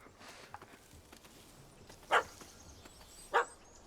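A dog in The Witcher 3 gives two short, sharp barks spaced about a second apart, fairly close, over a quiet game ambience with faint scattered background sounds.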